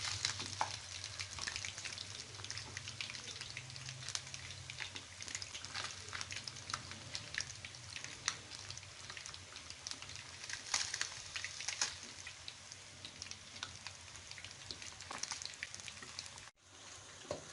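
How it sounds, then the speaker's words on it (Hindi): Steady, close sizzling of onions frying in a pan for a Pakistani fish curry, a continuous crackling hiss with scattered pops and no talking. "ये आप देखिए हमारे प्याज फ्राई हो गए।"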